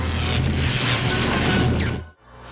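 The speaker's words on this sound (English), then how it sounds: "Oh no, not another explosion!" A loud, sustained cartoon explosion from a Transformers animated episode roars with heavy low rumble for about two seconds, then drops abruptly to near silence before a faint tail.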